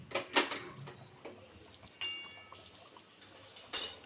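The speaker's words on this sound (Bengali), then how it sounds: "খুব সাবধানে একটু নাড়াচাড়া করে নিতে হবে" Hilsa fish with oil is gently stirred in a pan, giving soft scrapes and light metallic clinks, ending with one sharp, bright clink.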